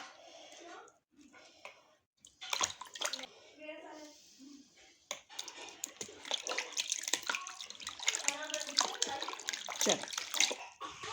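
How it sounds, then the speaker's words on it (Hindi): Beef liver is rubbed and squeezed by hand in a bowl of vinegar water, with wet sloshing, splashing and squishing bursts, close and moderately loud, while someone talks over much of it. "अब इसे मैं ना मसल के धो लूँगी इसी पानी में"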